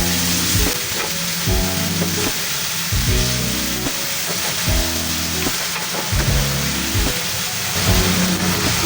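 Shrimp paste (alamang) sautéed with tomatoes and onions in a pan for chicken feet Bicol Express: a steady, close sizzle with repeated stirring scrapes and low tonal sounds running beneath, no talking.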